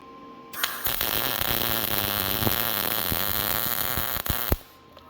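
A welder fuses a spun nut back in place during a Yamaha Apex snowmobile motor swap, a steady, loud crackling hiss that starts abruptly, holds for about four seconds, then cuts off.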